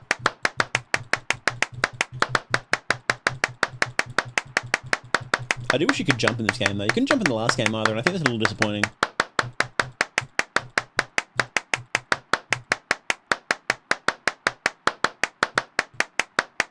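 Rapid, evenly spaced hand claps from the game Clapism repeat steadily for the whole stretch, close and crisp, while someone talks over the middle part.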